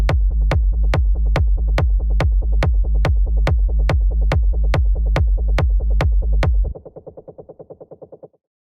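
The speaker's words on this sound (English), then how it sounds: "So first we have our kick and rumble group that sounds like this" Techno kick and rumble group built from vinyl samples: a steady four-on-the-floor run of loud, deep kicks under a droning distorted rumble, then the kicks stop and a fading, pulsing rumble tail remains.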